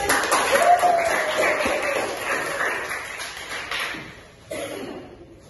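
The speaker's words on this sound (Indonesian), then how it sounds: "Mana tepuk tangannya?" Seminar audience clapping to welcome two speakers onto the stage, a dense crowd of hand claps mixed with voices that thins out and briefly drops near the end before picking up again.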